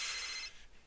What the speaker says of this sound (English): got cut off by his phone ringing